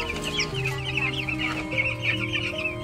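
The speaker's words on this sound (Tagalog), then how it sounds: "Nagising na ang mga manok." Chickens clucking close by, a steady overlapping chorus of short, repeated clucks with no talking.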